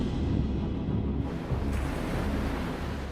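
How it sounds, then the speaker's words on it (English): Heavy ocean surf in a Pacific surf zone roars as a steady, loud, broadband wash with no gaps, the churning water continuous from start to end and no voices over it. "Caught between the heavy surf and a powerful undertow, Mike Fay is exhausted."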